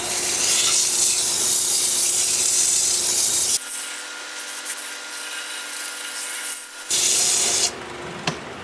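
Sandpaper is held by hand against a wood piece turning in reverse on a lathe at 400 RPM. The rasping hiss is loud and close, eases to a softer rub midway, then swells again.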